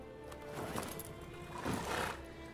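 A horse in the video game The Witcher 3 whinnies loudly twice, the neighs close and strained, with faint hoof clatter beneath.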